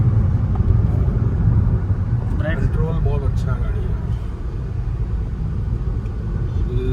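Skoda Kylaq pulling hard on the highway after a gear downshift, a steady low engine rumble and road noise running throughout beneath someone talking in the cabin.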